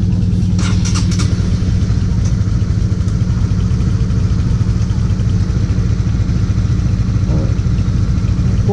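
A motorcycle engine runs slowly on a foggy road toward Bandarban, giving a loud, steady low rumble with a constant drone and brief higher rattles early on, with no voices.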